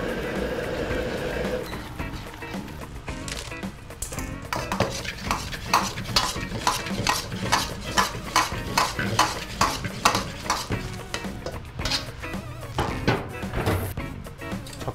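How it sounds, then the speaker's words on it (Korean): Chopsticks stir and scrape through sugar caramelizing over high heat in a pan, mixed with corn syrup, giving a steady run of quick rhythmic clacks and scrapes against the pan, moderately close and without talking. "젓가락을 이용해서 살살살 떼주면 됩니다"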